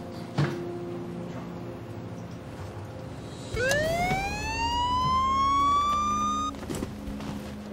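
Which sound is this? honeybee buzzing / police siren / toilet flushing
police siren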